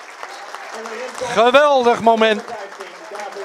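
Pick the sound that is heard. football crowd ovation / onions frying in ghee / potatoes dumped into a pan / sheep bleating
football crowd ovation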